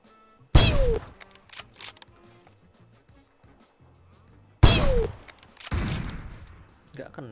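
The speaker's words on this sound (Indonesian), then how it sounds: "Sini suara tembakan." Two loud, sharp gunshot bursts in PUBG Mobile about four seconds apart, each with a ringing tail and scattered clattering in between, no talking.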